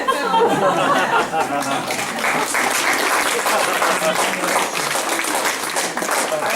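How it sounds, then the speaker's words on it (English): Audience applause for Julie Gates, wife of Tom Gates, a steady wash of clapping that holds loud and even throughout, with chatter and a few voices mixed in. "I think we owe a round of applause to Julie Gates, your wife, for her patience"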